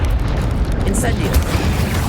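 Incendio fire spell cast in the Hogwarts Legacy video game, a continuous roaring whoosh of flame with low booming rumble throughout, loud and close.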